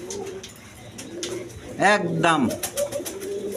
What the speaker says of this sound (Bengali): দেখেন একদম কোয়ালিটি সম্পন্ন কবুতর